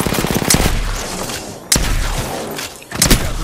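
Automatic gunfire from the video game Apex Legends crackles in loud, rapid bursts, three separate volleys with brief pauses between them.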